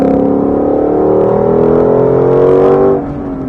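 A car engine revs up steadily as the driver presses the throttle, a loud, rising harmonic drone that climbs in pitch for about three seconds, then drops off abruptly as the gas is released.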